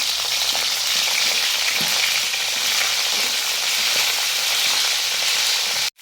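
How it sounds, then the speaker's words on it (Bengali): Cauliflower florets frying in hot oil in a wok, a strong, even, close sizzle with occasional soft stirring taps, continuous until it cuts off abruptly at the end, no voices. "এবার আমি ফুলকপিগুলো এতে ভেজে নেবো"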